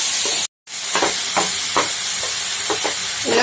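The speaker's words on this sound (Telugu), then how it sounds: "ఇప్పుడు ఇందులో చిటికెడు సాల్ట్ వేసి ఫ్రై చేసుకుంటే టమాటాలు తొందరగా" Tomatoes with a pinch of salt fry in a pan, a steady close sizzle and hiss with soft stirring scrapes recurring throughout and one brief dropout near the start.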